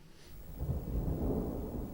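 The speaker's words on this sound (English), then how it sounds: "What was that? Thunder." Thunder in a movie rumbles low and heavy, swelling after a brief quiet start and rolling on steadily at moderate loudness with no talk over it.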